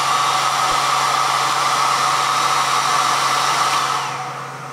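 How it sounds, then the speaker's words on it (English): A hair dryer powered by a Bluetti AC50B portable power station, running on its first level, blows with a loud, steady whirring roar, then winds down slightly toward the end. "turn on the hair dryer"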